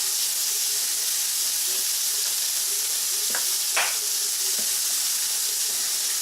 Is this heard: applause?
no